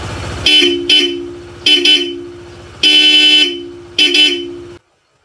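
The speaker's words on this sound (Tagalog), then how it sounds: "And naka-loud horn din po ito. Bosch Europa." A loud, bright Bosch Europa motorcycle horn honks five times in short bursts, some doubled, with one longer blast in the middle, then silence.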